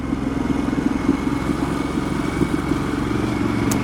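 A Harley-Davidson Pan America motorcycle sits idling after being switched on, a steady close-up engine rumble with a slight clattering pulse and no voices.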